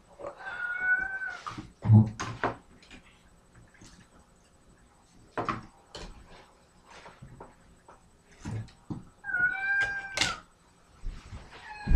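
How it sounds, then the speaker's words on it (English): A pet cat meows several times at close range, with drawn-out calls near the start and again later, separated by quiet gaps and a few soft knocks and thuds. "here's my cat"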